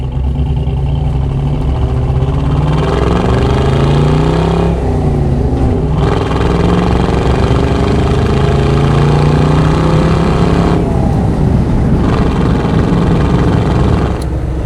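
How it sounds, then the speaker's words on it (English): A 1986 Chevrolet K10 Silverado square-body pickup with a 6-liter LS V8 drones loudly while driving, rising and falling as it climbs through the gears, with no voices. "This is a 1986 Chevrolet K10 Silverado pickup with a 6-liter LS motor"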